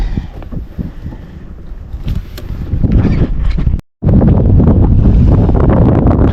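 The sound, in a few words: strong west wind picking up at sea while fishing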